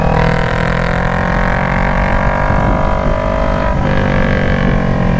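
A 2021 Kawasaki Ninja 400 with the muffler deleted, cruising in fifth gear around 38 mph: a loud, continuous droning exhaust note with steady engine harmonics and a brief dip near the end, up close with wind noise.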